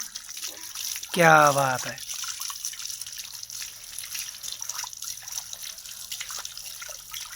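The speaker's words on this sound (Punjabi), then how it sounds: "ਆ ਦੇਖਿਓ ਵਰਦੀ ਹੈ ਨਾ ਪਾਣੀ" A steady stream of water from a motor pump rushes and hisses throughout, with a man briefly exclaiming over it near the start.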